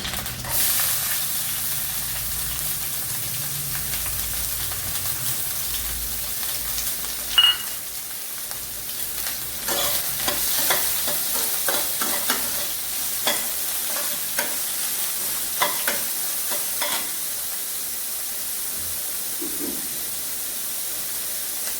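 Chopped onions and sliced garlic sauté in a pan for an egg curry, giving a steady soft sizzle and hiss with scattered clinks and scrapes of stirring throughout, close and with no talk.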